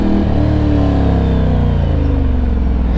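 A motorcycle with a loud aftermarket exhaust revs hard close by, its engine note rising and holding steady in a strong, continuous roar.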